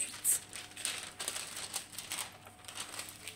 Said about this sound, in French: je vais replacer le film parce que ça fait des petits plis